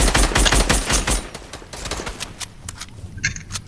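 Rapid gunfire in the video game Fortnite snaps out in fast, loud bursts of shots, then thins into scattered, quieter cracks toward the end.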